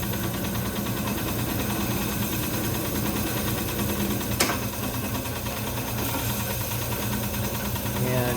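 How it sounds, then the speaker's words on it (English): A machine shaping a harmonica slide for a Seydel Saxony harmonica runs steadily throughout with a constant mechanical hum and vibration, with a brief sharp tick midway. "you always, of course, have to stop the machine"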